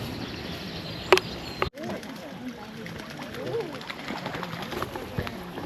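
Birds calling and cooing across the protected wetlands near Belfast, with a sharp call near the start and scattered chirps after a brief dropout, under steady outdoor ambience; faint voices may be present.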